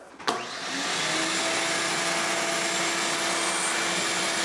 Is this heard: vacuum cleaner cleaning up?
yes